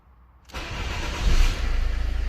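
A Citroen C5 engine cranks and catches after silence, rising to a loud roar and then settling into a steady, rhythmic pulsing idle up close, with no talk.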